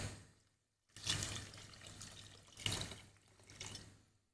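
Water pours into a cooking pot of potatoes and chickpeas in two short splashing bursts, close and fairly soft, with a trickle between them in a quiet kitchen.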